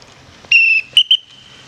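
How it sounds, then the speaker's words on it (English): A dog training whistle used for recall sounds once in a longer high, shrill blast, then two short quick pips, loud and clear against a quiet background. "The recall off the whistle pitch"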